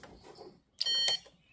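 An Autel PS100 diagnostic tester, clipped straight onto a battery's positive and negative terminals, gives one short, high electronic beep close by as it powers on, after a few faint handling sounds.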